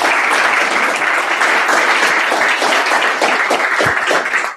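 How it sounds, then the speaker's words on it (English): Steady, dense applause from an audience at a lunchtime data visualization talk, many hands clapping continuously and loudly for several seconds after a speaker finishes. "let's give Joey a big round of applause here"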